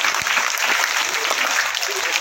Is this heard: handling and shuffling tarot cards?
no